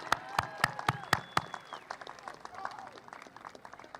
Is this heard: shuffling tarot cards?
no